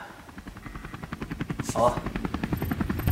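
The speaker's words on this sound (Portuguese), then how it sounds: "o barulho maravilhoso de um helicóptero" A helicopter's rotor chops in a steady rapid rhythm at the opening of a rap music video, a dense pulsing thrum that grows slightly louder, with a brief voice exclamation over it.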